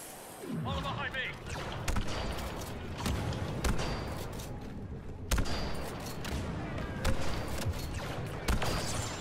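Repeated laser-blaster gunfire from Star Wars Battlefront II in a Naboo match, dense bursts and impacts throughout, with players talking over the shooting.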